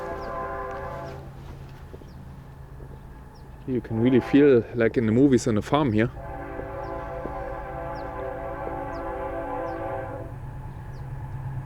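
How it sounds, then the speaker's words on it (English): A long train horn blaring through California Central Valley farmland, several loud wavering blasts in the middle of a steady rumble of passing rail cars, with people talking before and after. "Oh, there's another train coming."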